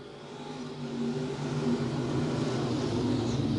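E-Mod, pure stock or sprint race cars accelerating on the I-35 Speedway dirt track after the green flag, a steady, moderately distant engine drone that builds slightly in volume, with no talk over it.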